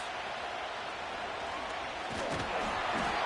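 Stadium crowd noise from an EA Sports football video game, a steady broad roar of many fans that swells slightly near the end, with no clear individual voices.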